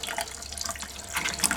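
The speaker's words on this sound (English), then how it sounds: "And we can see, of course, our clear water coming out" Water runs steadily from an RV bathroom faucet as the pump primes back up, a close, continuous splashing hiss into the sink that swells slightly near the end.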